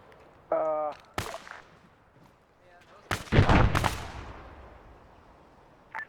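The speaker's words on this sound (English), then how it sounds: "Who's the one firing explosive rounds or something?" Gunfire in ARMA 3 with explosive rounds: a few sharp isolated cracks and one heavier burst with a booming tail, separated by quiet gaps, with brief talk early on.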